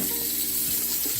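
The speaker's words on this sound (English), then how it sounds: "I'm just gonna run some cold water over" Cold tap water runs into a kitchen sink over a pound of frozen, deveined, tail-off shrimp. It makes a steady, close splashing wash with a faint hum underneath throughout.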